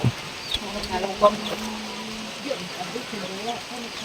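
Chickens clucking softly nearby in a rural Filipino household setting, with a few short calls and a longer drawn-out cluck, faint against background with occasional speech.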